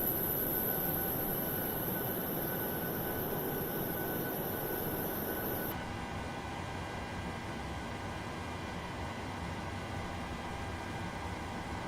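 An airliner's auxiliary power unit in Microsoft Flight Simulator, a steady droning whine with a high tone that drops away partway through, leaving a continuous lower rumble.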